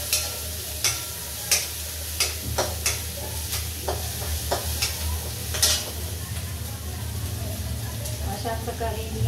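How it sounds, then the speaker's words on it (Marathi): Cooked rice being stirred into a hot spice tempering in a pan, with a steady sizzle under repeated sharp scrapes and taps of the spoon against the vessel. "मी आता हा भात पण फोडणीस टाकते"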